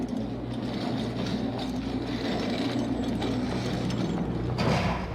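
A rotating wall and hidden elevator mechanism in the Riven video game make a steady, loud mechanical grinding rumble with ratcheting gear clatter throughout, swelling briefly near the end.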